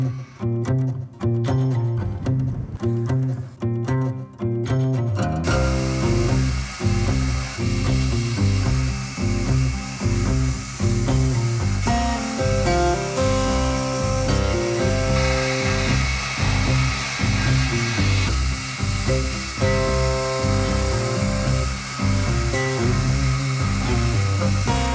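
Blade edge ground on a wet grinder, a steady abrasive whirring and grinding that runs continuously for the whole stretch, loud and close with slight shifts in pitch as the blade is worked, and no talk.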